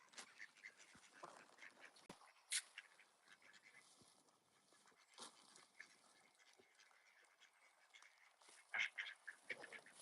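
Ducks quack softly during feeding with pellets, scattered intermittent calls and small rustles, with a louder burst of quacking near the end and quiet gaps between.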